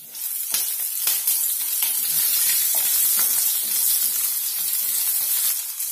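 Cardamom, mace, cumin and slit green chillies sizzling in hot oil: a loud, dense, continuous hiss and crackle up close, punctuated by a few early clatters as the chillies drop in.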